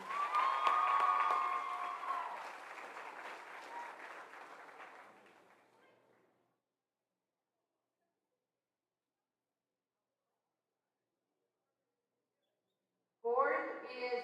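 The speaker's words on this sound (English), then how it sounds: "please give a round of applause for senior Lady Ram basketball manager Morgan" An audience at a girls' high school basketball senior night applauds a senior team manager: loud steady clapping that fades to silence over several seconds, then a brief return of noise at the end.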